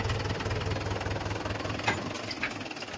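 A farm tractor idles with a steady low rumble and a fine rhythmic knock, holding an even level throughout with a couple of brief clicks near the end and no talk.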